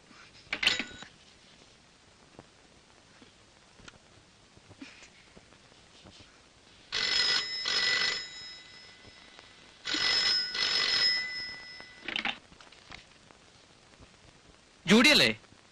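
A telephone bell rings in bursts during a Malayalam family drama film, loud trilling rings recurring several times with gaps of quiet room sound and faint talk between them.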